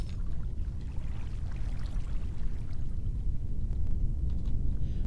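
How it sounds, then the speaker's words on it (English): Water flows in the Minecraft video game, a steady rushing wash with a rumbling low body, continuous throughout and heard alone without speech. "Water, stop flowing."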